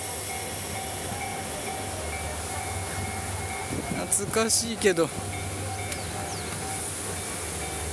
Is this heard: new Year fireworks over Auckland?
no